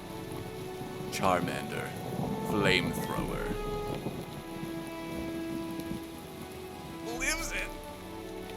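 Steady rain patters through a Minecraft Cobblemon battle, a constant soft hiss lying beneath an excited player's talk the whole time.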